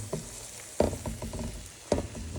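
Chicken and shrimp stir fry sizzle steadily in a hot pan, with a few louder bursts of spatter and clatter as the ingredients are stirred, no voices.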